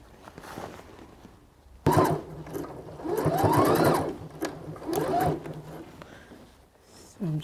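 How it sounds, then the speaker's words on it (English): A sewing machine stitches garters onto the top of an apron in short bursts, its needle rattling rapidly and close, separated by quiet pauses and small handling noises. "Just sewing the garters to the top of our apron."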